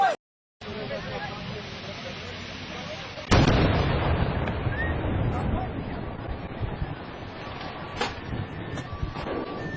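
A double explosion at a petrol station in Romania: a sharp blast, a moment of silence, then a second heavy boom that gives way to a sustained roar of fire and rumbling, heard from a distance with scattered pops.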